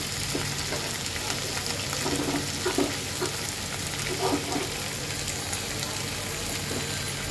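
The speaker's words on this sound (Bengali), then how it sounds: "এখন আমি দিয়ে দেব কেটে রাখা চিংড়ি মাছগুলি।" Cut shrimp frying in a pan, a constant moderate sizzle with a few brief stirring knocks, heard alone without talk.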